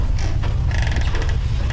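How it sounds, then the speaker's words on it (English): A hallway door creaks as it swings open and shut, with a short squeal and then a longer wavering creak over a low steady rumble, close by and with no talking. "And immediately the door starts like opening and closing."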